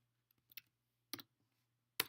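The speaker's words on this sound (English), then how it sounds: "So you're going to type in those digits" A few light clicks of digits being typed on a computer keyboard for a password, sparse and quiet taps in near silence with a faint steady hum behind them.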